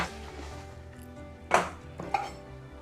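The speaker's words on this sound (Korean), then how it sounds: "이렇게 3등분해서 이렇게 먹기 좋은 크기로 이렇게 자르면 좋죠" Knife cutting a thin eggplant into bite-sized pieces on a board, two distinct sharp chops about half a second apart over a quiet low hum.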